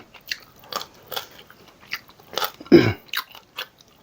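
Crispy grilled pork neck is bitten and chewed close to the mic, giving a series of short crisp crunches in an uneven rhythm, with one louder, heavier bite partway through and quiet gaps between chews.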